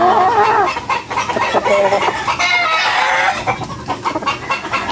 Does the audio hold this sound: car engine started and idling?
no